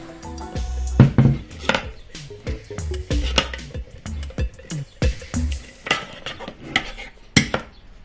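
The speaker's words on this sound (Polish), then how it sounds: "Teraz dokładnie mieszamy jeszcze za pomocą kostki." Thick cocoa mass for chocolate wafer bars is stirred in a metal pot, giving irregular scraping, clinking and knocking of the utensil against the sides, close and fairly loud.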